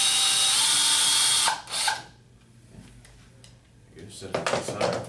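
A power driver fitted with a Torx T30 bit unscrews a seat screw near the recline lever in a 1996–2002 Chevy Express van, a loud close whir that cuts off. Clicks and scraping follow, with some talk.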